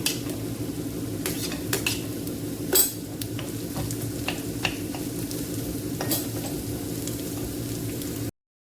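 Cut vegetables for poha sizzle in a pan while a utensil scrapes and stirs against the metal in irregular clatters, with a steady frying hiss beneath.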